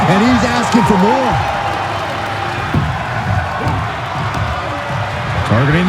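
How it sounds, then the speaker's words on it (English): A Ring of Honor tag-team wrestling crowd roars loudly and steadily, a dense wall of cheering and shouting with some clapping, under a commentator's voice. "The sound of this crowd is deafening, and he's asking for more."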